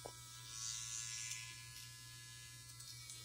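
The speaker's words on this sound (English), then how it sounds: "this nose clipper, it tickles. So and it buzzes" A Wahl electric nose hair clipper buzzes steadily close by with a constant motor hum, swelling slightly in the first second and then running evenly on its own with no talking.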